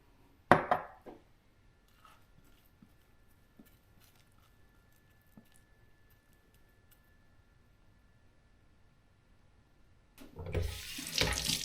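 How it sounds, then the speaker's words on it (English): A kitchen tap gushes water to wet a hand while making a sourdough loaf; after a faint clatter and near silence, a loud running-water rush starts abruptly near the end and continues. "Get my hand wet because this stuff is very sticky."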